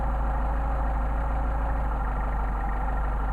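A Mercedes 190SL with Solex carburetors idles steadily and close by, a continuous low, even engine rumble with a slight rhythmic pulse and no voices over it.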